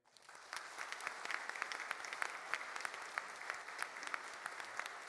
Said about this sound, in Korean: 여러분 모두 큰 박수로 격려해 주시기 바랍니다